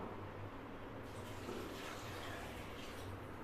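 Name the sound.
water being poured into a pot of rice for pumpkin biryani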